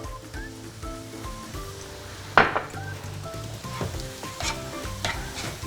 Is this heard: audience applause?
no